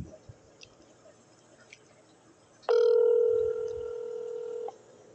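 An outgoing phone call gives one long, steady ringback tone lasting about two seconds, loud and clear over faint background chewing and small clicks, then cuts off.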